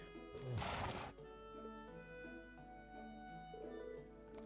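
A horse gives a single loud whinny near a stable in a fantasy role-playing game, followed by soft snorts and shuffling over gentle background music.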